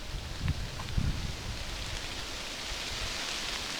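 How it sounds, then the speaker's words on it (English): Rain falls in woods as a soft, steady hiss with a couple of dull thumps near the start, faint and distant-sounding. "Oh, there comes the rain again."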